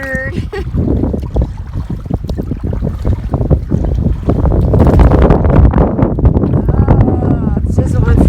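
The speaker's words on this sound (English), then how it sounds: "Wind tunnel!" Strong wind gusts hard across a lake island, roaring and buffeting loudly in bursts and swelling stronger in the second half, with a voice calling out over it.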